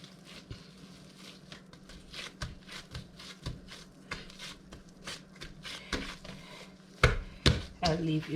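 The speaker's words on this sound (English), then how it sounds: "I want to cut this bread in half because I'll be baking 2 loaves." Homemade bread dough being cut in half for two loaves, heard as soft irregular knocks and taps of a blade on a board, quiet and close, with a few sharper clatters near the end and no voices.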